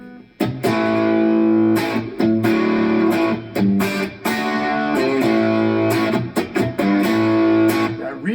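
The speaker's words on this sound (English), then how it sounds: "you're going to be hearing me playing the Jazzmaster." A 1966 Fender Jazzmaster electric guitar with JW Restoration pickups, played through a Matchless amp head into a Two Notes Torpedo Studio with rack reverb, rings out in sustained chords and picked phrases, loud and close with no talking.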